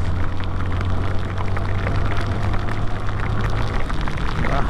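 Heavy downpour during a motorcycle ride, a dense, loud, continuous hiss of rain with a low steady rumble underneath and no voices.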